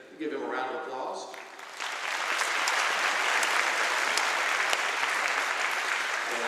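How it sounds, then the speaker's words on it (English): A school assembly audience applauds the school board vice president, a broad steady wash of clapping that swells and continues to the end, following a brief moment of someone speaking at the start. "Give him a round of applause."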